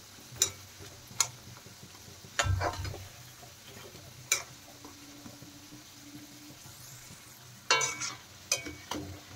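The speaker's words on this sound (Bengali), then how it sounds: "লিট্টিগুলো যখন আপনারা ভাজবেন তখন কিন্তু গ্যাসের ফ্লেমটা মিডিয়াম রাখবেন, তাহলে কিন্তু খুব সুন্দর ক্রিস্পি করে ভাজা হবে" Aloo litti frying in oil over a medium gas flame, a soft steady sizzle broken by sharp ticks and clinks from utensils at intervals, with no talk.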